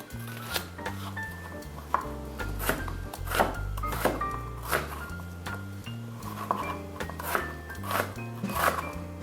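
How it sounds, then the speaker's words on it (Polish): Knife cutting peeled onion into large strips on a board, a steady run of close, crisp chops and scraping strokes with a faint low hum underneath. "Cebulkę obieramy i kroimy w duże piórka"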